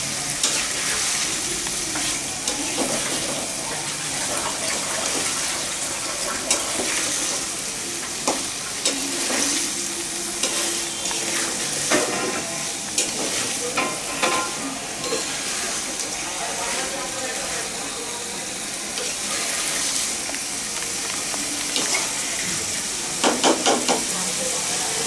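Meat, chicken by the stated dish, and chopped onions frying in a pan with a loud, continuous sizzle and spatter. Stirring scrapes and a few clinks run through it, and a voice speaks now and then underneath.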